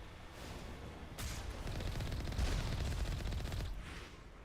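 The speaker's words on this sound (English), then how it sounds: "It was like instant explosions on me." A loud, dense barrage of gunfire and explosions from the video game Mass Effect, a continuous roaring wash of blasts that swells in the middle and carries on without a break.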